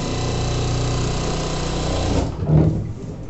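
A sewing machine stitches a pant side pocket with a steady, close, mechanical whirr of rapid needle strokes, running evenly for about two seconds before slowing and stopping.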